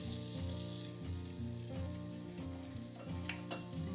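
Butter, two tablespoons of brown sugar and a few dashes of cinnamon are stirred in a hot pan, a continuous soft sizzle with occasional scraping, under quiet background music.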